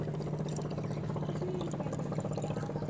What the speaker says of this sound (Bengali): প্রতিদিন গাড়ি স্টার্ট দেওয়ার আগে রেডিয়েটারের মুখটা খুলে অবশ্যই পানি দিবেন